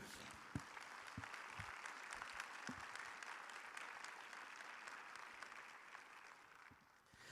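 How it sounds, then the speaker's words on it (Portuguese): Congregation applauding in church during a sermon, a distant, faint, even patter of many hands with a few sharper claps near the start, no speech over it. "Vamos aplaudir ao Senhor, queridos."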